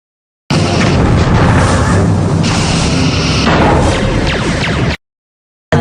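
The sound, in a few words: quantum torpedo fire and explosion in Star Trek Bridge Commander video game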